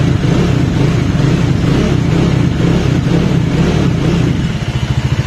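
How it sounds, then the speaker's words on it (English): A Bajaj Dominar 400 motorcycle's engine runs close by with a heavy, continuous rumble that rises and falls in revs, settling into a pulsing idle near the end. "keep revving your bike in between so that the battery is charged."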